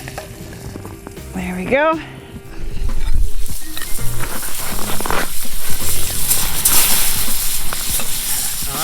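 Steak sizzling in a cast iron pan over an open fire, a loud steady frying hiss close up, with brief talk and a squeaky scrape near the start.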